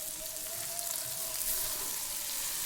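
Potatoes dropped into hot oil with fried spices in a pan, giving a soft, steady sizzle and crackle at low level, continuous throughout without talk.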